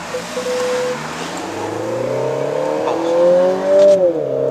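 A 2021 Peugeot 3008 Allure THP engine and exhaust rev hard under acceleration, the tone climbing steadily, briefly dipping at a gear change, then rising again, loud and close from inside the cabin.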